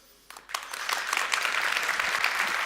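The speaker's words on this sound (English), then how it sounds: "I'm going to ask you to clap, and the one that gets the most clap is the one" A conference audience at a React developer event claps to vote, applause swelling quickly from near silence into a dense, sustained patter of many hands.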